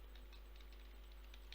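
Soft, quick keyboard tapping, a light irregular patter of keys clicking close by, quiet and alone.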